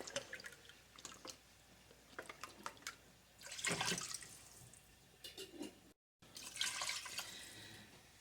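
Beef broth is poured into a pan of browned flour, giving a splashing liquid pour in bursts over several seconds with intermittent drips and trickles. The sound is close and moderately loud, with no voices.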